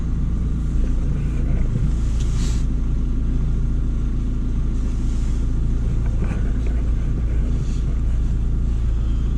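A Peugeot 2008 engine idles after being restarted, a steady low rumble held close and constant with no talk over it.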